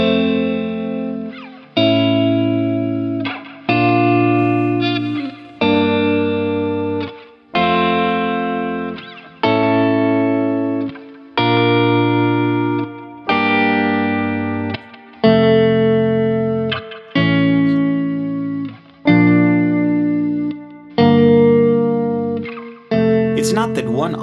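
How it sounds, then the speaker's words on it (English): Guitar chord voicings strummed one after another, with the fifth, then the root, then the third as the top note; about a dozen loud, ringing chords, each left to decay briefly before the next. "First I'll start with the fifth in the top voice, then with the root note or octave in the top voice, and last the third will be the top note."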